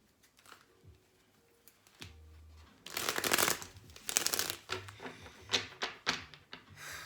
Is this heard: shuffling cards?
yes